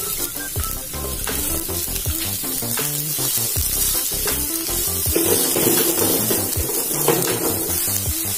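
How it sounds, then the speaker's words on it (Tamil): Sliced onions, ginger and garlic sizzle and fry in hot oil in a kadai, a steady close crackle with occasional stirring scrapes and pan clatter throughout, no talking. "ஸ்லைஸாக நறுக்கி வச்சிருக்க வெங்காயம் ஆட் பண்ணிக்கலாம்."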